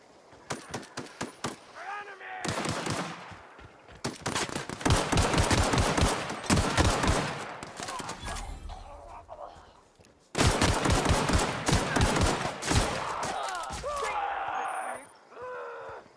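Bursts of automatic gunfire and rapid single shots crack through a firefight in The Outer Worlds, loud and dense with short pauses, while shouting voices call out between and over the volleys.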